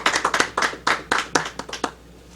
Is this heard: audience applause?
yes